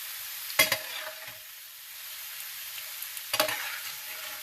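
Sourdough pasta pieces frying until crisp give a soft, even hiss throughout, broken by two sharp clattering stirs near the start and end, close up and with no voices.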